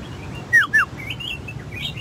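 A caged hoàng màu songbird gives two quick, bright chirping notes close by, followed by fainter trailing song over low background hum, with no talking.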